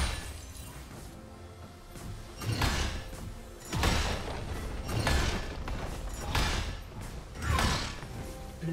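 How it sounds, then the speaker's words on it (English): A turret being destroyed in League of Legends, a top-lane game between Mordekaiser and Riven: several heavy thudding impacts with crumbling debris land at a steady rhythm over a low rumble, loud and close, with no voices. "Blue team's turret has been destroyed"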